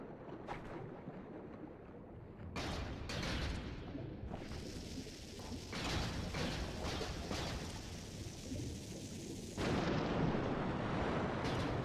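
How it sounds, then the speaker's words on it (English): Bombs going off in Twilight Princess HD's Lakebed Temple, a run of deep, rumbling blasts with heavy broadband bursts that swell and overlap, close and loud, with no talk. "I guess I have to bomb this down here"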